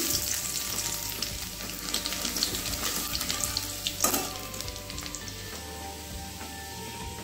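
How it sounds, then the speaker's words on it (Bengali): Bay leaf, three dried red chilies and chopped garlic sizzle steadily in hot mustard oil, a continuous close frying crackle with faint stirring clinks and a sharper spatter burst midway. "তেলটা আমার গরম হয়ে গেছে, দিয়ে দেবো তেজপাতা, 3টে শুকনো লঙ্কা, দিয়ে দেবো রসুন কুচি"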